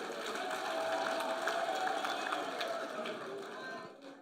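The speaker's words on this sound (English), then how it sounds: "Comrade, let's appreciate Comrade Supra with a round of applause." Crowd at a regional political conference applauding a speaker, a broad, sustained wash of clapping and murmuring voices from a large hall, fading out near the end.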